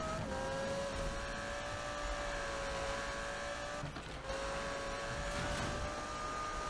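A car engine drones at high revs in the racing game Need for Speed 2015, its pitch climbing slowly, with a brief dip midway before it pulls on again; no voices.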